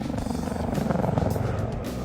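A helicopter flies nearby, its rotor producing a rapid, rhythmic chopping thrum over a steady engine drone, moderately loud throughout.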